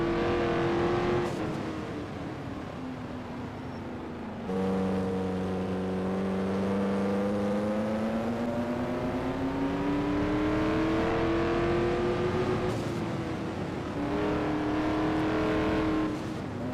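An Eagle race car with an Offenhauser engine in a racing video game at a 1978 USAC IndyCar round, its engine droning loudly and continuously, pitch sweeping down and up through gear changes and corners with brief breaks.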